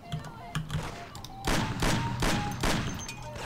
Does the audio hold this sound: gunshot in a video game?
yes